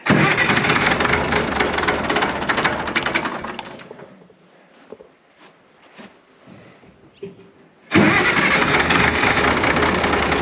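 An old tractor, either a Case 970 or a McCormick-Deering W9, runs loud and close, dies away into near silence with a few clunks, then cranks and roars back to life.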